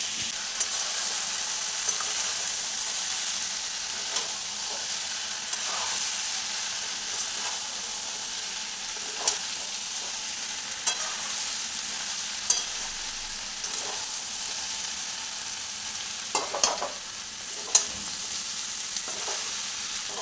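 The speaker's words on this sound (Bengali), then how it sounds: "আলুর সাথে কষিয়ে নিচ্ছি।" Curry with fried potatoes being stir-fried in a pan, a continuous close sizzle and hiss broken by occasional scraping clicks of the spatula, with no voices.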